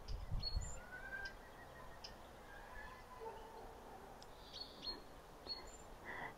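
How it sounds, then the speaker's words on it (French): Faint, scattered bird chirps and calls sound outdoors over a soft background hum, with a few brief honking fowl notes. "Je te fais écouter les oiseaux déjà."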